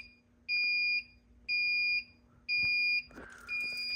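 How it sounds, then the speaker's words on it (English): Building fire alarm horn sounding during a routine system test, sharp electronic tones repeating in steady on-off bursts about half a second long, loud and close, with a different alarm tone cutting in at the end. "Fire alarm in-house."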